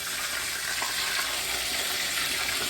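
Pork chops fry crisply in a hot pan, giving a steady, dense sizzle and crackle that stays close and loud throughout, with no voices.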